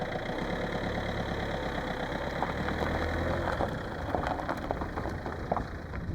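A car engine hums steadily from inside the vehicle while driving toward the mountains, a continuous mid-low drone with faint rattles and no talking.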